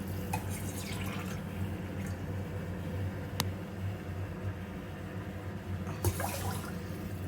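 Water pours steadily and fairly quietly into a pot of washed rice for tomato bath, a soft continuous splashing trickle with a couple of faint clinks, heard alone.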